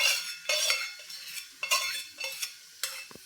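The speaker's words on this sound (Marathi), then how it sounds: "आता यामध्ये जे आपण ड्रायफ्रूट्स करून घेतलेले होते हे ड्रायफ्रूट्स यामध्ये घालून घेऊयात" Spoon scraping and stirring dry fruits through ghee-rich gram flour halwa (besan sheera) in a pan, a series of close, gritty strokes with light metallic clinks and a soft sizzle, no voices.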